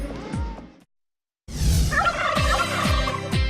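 Turkey gobbles ring out in two bursts, the first short and then cut by a brief silence, followed by a louder rapid rattling gobble call that is clear and close, with no speech.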